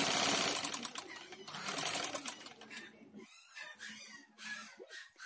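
A sewing machine stitching a dress sleeve gives rapid rattling bursts of stitching for about three seconds, then stops, leaving a quieter stretch where a voice talks.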